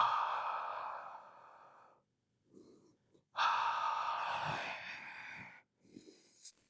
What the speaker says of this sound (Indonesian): Hembuskan napas lebih lama, hembuskan napas sambil menghitung sampai 3.